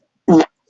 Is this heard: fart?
yes